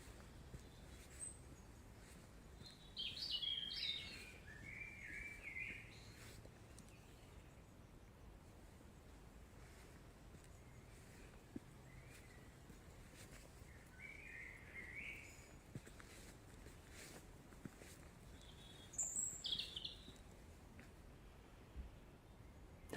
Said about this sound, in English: my things were the sounds of the birds